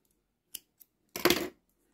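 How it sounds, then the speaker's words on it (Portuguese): Scissors snip crochet yarn: two faint ticks as the blades open, then one sharp, close cutting crunch lasting about a third of a second, in a quiet room with no talk. "Deixa eu cortar logo esse fiozinho aqui pra não me atrapalhar"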